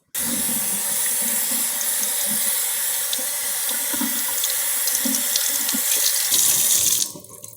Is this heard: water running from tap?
yes